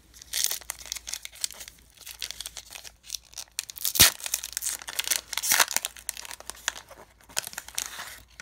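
Close, crisp crinkling and tearing of a Pokemon Sun and Moon Guardians Rising booster pack's foil wrapper, with irregular bursts of rustling and a sharp rip near the middle, all without any talking.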